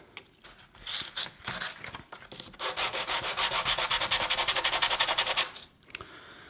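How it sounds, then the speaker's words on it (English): Wooden car kit pieces being sanded with coarse P80 sandpaper, rubbed back and forth on a flat surface: a steady run of quick, close, rhythmic scratchy strokes, with a few scattered rubs before and after. "Just give the bottoms a sand, back and forward on a nice flat surface"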